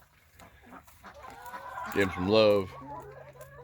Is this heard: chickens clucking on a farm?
yes